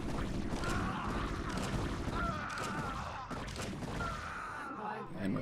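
Long-range rifles firing during a StarCraft battle aboard the Amerigo, heavy booming volleys that sound like shotguns, dense and continuous over game noise, with a voice talking over them.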